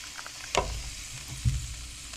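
Ground meat sizzles in a pan of bacon grease, a steady crackling fry with two sharper spatters or thumps of the meat being moved, no talking.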